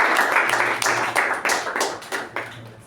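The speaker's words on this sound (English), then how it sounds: "it's a milestone that should be appreciated, as he said, by a thunderous round of applause" A small group applauding at a Toastmasters meeting, brisk clapping in short uneven bursts that swells and fades over a few seconds, close and fairly loud.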